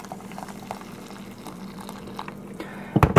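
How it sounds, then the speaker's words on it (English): Hot water trickles and bubbles into a tea steeper, a soft, close liquid patter that ends in a louder splashing burst. "pour the water in, so I'll go ahead and pour some water on there right now"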